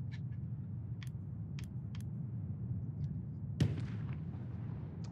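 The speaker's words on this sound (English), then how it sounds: "Couple quick shots going off" A few scattered, distant gunshots crack out over a low ambient battlefield rumble in a Battlefield 1 match, with one sharper, louder shot standing out midway.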